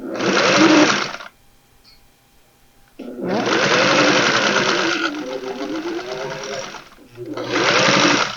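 A sewing machine stitching a potholder made from recycled towels runs in loud, steady bursts of motor whir, stopping for about two seconds between runs, close up with no speech over it.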